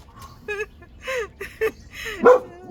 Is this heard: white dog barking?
yes